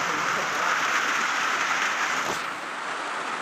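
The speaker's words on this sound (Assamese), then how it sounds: "চব কিমান বৰষুণ দিছে" Heavy rain pours down steadily as a loud, dense hiss, a continuous wash of falling water with a slight drop in intensity near the end and no voices.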